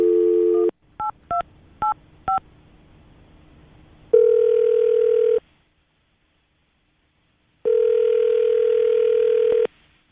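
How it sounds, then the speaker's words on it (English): A telephone call rings out to a radio show guest: a short dial tone, then four quick keypad beeps, then two long ringback tones separated by a pause of silence. The line is clear and loud. "We're going to give her a call right now, see if we can get her on the phone"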